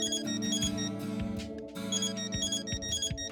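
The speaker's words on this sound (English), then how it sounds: "Phone call? Who could it be?" A video game phone ringtone from Death End Re:Quest chimes in a steady melodic pattern over continuous background music, loud and alone without any talk.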